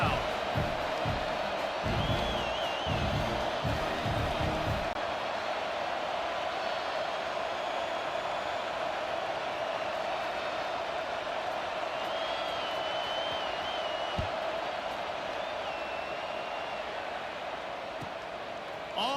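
Steady stadium crowd roar in College Football 26, a broad continuous wash of noise that holds level throughout, with brief louder bursts at the start and occasional faint whoops drifting over the top.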